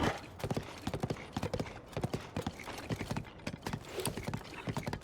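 Horse hooves trot in The Legend of Zelda: Tears of the Kingdom, a steady rapid clip-clop rhythm of crisp, close hoof strikes continuing throughout, loud and clear with no talk over it.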